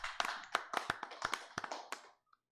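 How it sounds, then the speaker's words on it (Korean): A church congregation claps to give glory to God after a prayer, a burst of distinct sharp hand claps, close and fairly loud, that thins out and stops near the end. "하나님께 영광의 박수 돌려드리겠습니다."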